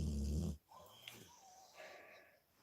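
A big dog snores, with a wheezy, rasping breath drawn close and quietly after a loud burst of other sound cuts off.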